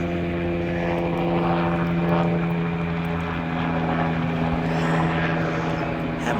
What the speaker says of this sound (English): A helicopter flying over.